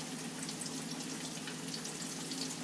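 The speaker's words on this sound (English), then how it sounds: "You notice I'm not overfilling the skillet because I want it to have room to fry." Pieces of food fry in regular vegetable oil in a skillet with room between them, giving a steady, dense crackling sizzle that holds evenly throughout with no talking.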